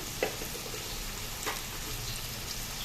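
Onions and green chillies frying in a pan for a crab curry, a steady close sizzle with a couple of sharp spatula clicks, no talking.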